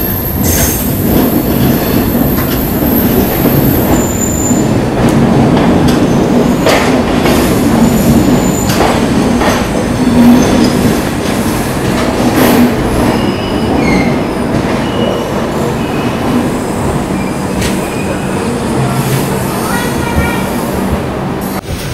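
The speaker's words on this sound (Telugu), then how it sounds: "మనమైతే ఇప్పుడు మన ట్రైన్ యొక్క 6th ఆఫీసర్ స్టాప్ అయిన విజయవాడ జంక్షన్ దగ్గర చేరుకున్నామండి" A train rolls into Vijayawada Junction beside platform 1, loud and close, with rumbling wheels, clattering cars and high metallic squeals running throughout, and a voice briefly audible underneath.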